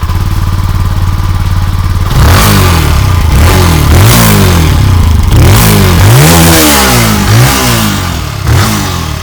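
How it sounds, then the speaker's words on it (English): A Benelli 165S motorcycle engine revs repeatedly, its exhaust note rising and falling in loud, close bursts over a steady idle. "let's jump to the excellent exhaust music that this bike has"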